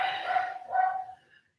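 A dog barks twice in close succession nearby, two short mid-pitched barks with a faint trailing whimper, heard alone in an indoor room.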